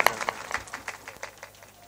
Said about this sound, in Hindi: एक बार जोरदार ताली का स्वागत करें।